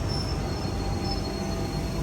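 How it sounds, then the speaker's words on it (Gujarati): Train pulling into a station on a Sunday morning, a loud continuous rumble of rail cars with a high wheel squeal running through it. "જો હમણાં ટ્રેન આવશે."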